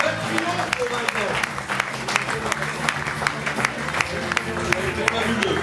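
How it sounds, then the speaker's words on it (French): Sustained audience applause for a performer named Vincent, a dense wash of clapping mixed with crowd noise and low music or murmur underneath, steady and loud throughout. "Un triomphe pour Vincent."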